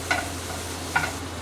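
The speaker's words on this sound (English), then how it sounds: "I'm going to put a little bit of olive oil and then start frying it till it's" Pancetta frying in olive oil gives a constant soft sizzle, broken by two light clicks of a utensil against the pan.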